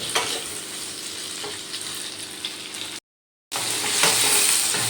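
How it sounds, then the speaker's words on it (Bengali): Ridge gourd pieces frying in oil with whole-spice tempering in a pan, a steady close sizzle with soft scraping stirs, briefly cut off before resuming louder. "এবার ঝিঙেগুলো একটু ভালো করে ভাজা ভাজা করে নেব"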